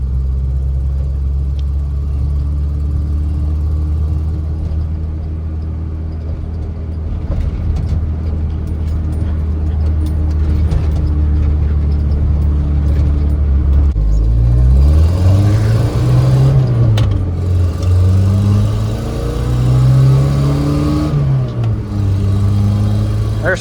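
A Ford car with a manual transmission is heard from inside as its engine drones steadily, then revs climb and fall through several quick gear shifts while the car accelerates around a curve.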